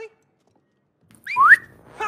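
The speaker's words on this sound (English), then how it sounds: "Just whistle." A short whistled tone rises sharply in pitch, heard alone in the It Takes Two video game, with a voice starting just after.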